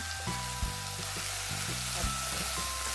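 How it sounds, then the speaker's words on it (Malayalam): Mustard seeds, curry leaves and broken dried red chillies sizzle in hot oil, a steady close crackle broken by scattered sharp pops. "കടുകൊന്ന് പൊട്ടി വന്നതിന് ശേഷം അതിലേക്ക് കുറച്ച് കറിവേപ്പിലയും 1-2 വറ്റൽമുളക് മുറിച്ചതും കൂടി ചേർത്തതിന് ശേഷം"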